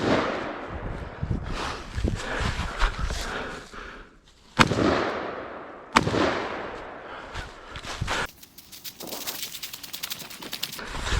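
Rifle shots fired at targets during a 2-gun competition stage, a series of sharp reports with two especially loud cracks standing out, followed by a quick cluster of rapid shots near the end.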